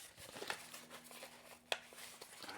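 Packaging for a slim rechargeable mouse is opened: faint, close crinkling and rustling with one sharper snap partway through, in an otherwise quiet room.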